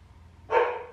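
A neighbour's dog gives a single loud bark partway through, close by, after a quiet start with faint low background hum.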